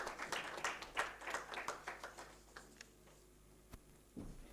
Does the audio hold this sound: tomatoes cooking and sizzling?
no